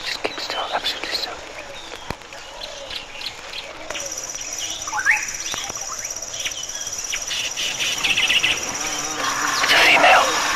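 Wild birds calling in the African bush during a leopard hunt: scattered chirps and short whistled calls over a constant high insect drone, with faint hushed voices and rustling, growing busier toward the end.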